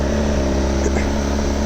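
Stock-exhaust BMW S1000RR motorcycle engine revving inside a basement enclosure next to a parked car, a loud, steady, booming idle-to-rev roar filling the whole short stretch with no talk.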